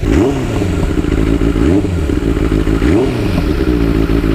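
Benelli 600i motorcycle exhaust: a loud, close, deep idle burble with rhythmic throttle blips rising and falling about every 1.3 seconds, with no talk over it.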